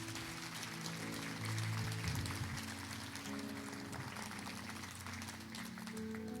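Steady applause from a church audience at a Spanish-language sermon on faith and miracles, dense and continuous throughout, with a low hum and faint background tones beneath the clapping.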